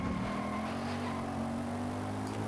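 The Lexus RC F Track Edition race car in Forza Horizon 5 hums with a steady, fairly quiet engine tone that holds an even pitch throughout.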